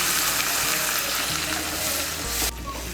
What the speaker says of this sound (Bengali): আমি মশলার বাটিগুলো ধুয়ে এর মধ্যে জলটা দিচ্ছি